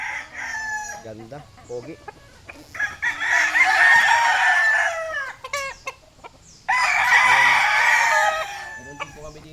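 A White Kelso rooster, eight months old, crows in two long loud bursts amid clucking, with people chatting nearby between calls.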